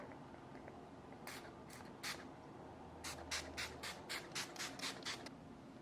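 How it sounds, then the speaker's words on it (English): Short hissing sprays from a facial mist pump bottle, a few spaced bursts followed by a quicker run of about eight, close and fairly soft. "I forgot to actually spray my whole face"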